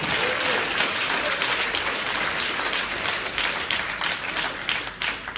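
A worship congregation applauds loudly and continuously in a church service, a thick wall of many hands clapping for several seconds, with faint voices underneath.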